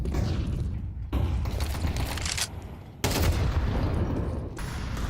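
Pistol gunfire in the Counter-Strike video game comes as dense bursts of sharp shots and thuds that cut in and out abruptly in loud, continuous clusters, with no talk over them.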